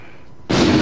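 A single sudden gunshot in Call of Duty: Infinite Warfare search and destroy match, a loud, broad blast bursting in after near silence and holding as a sustained roar.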